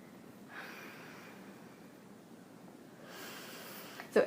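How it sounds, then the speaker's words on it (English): During a yoga rest with the knees tucked to the chest, a person breathes slowly and audibly, with a soft inhale swelling and a longer exhale, ending in a sharp snort-like breath close to the microphone. "take a few breaths here"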